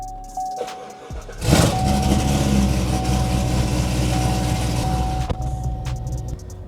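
A supercharged 900 HP Corvette C7 Z06 with a stage 2 cam starts with a sharp burst, then rumbles into a heavy, loping idle that stays loud and close, with a few clicks around it.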